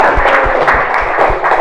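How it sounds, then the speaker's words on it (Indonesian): A classroom of students applauding, a short burst of dense clapping, fairly loud and close, with murmuring voices in the mix. "tepuk tangan"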